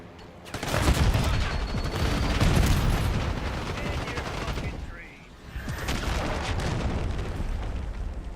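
Call of Duty Black Ops multiplayer gunfight: a loud grenade blast with rolling booms and dense rapid gunfire, continuing in heavy bursts under brief game voice callouts.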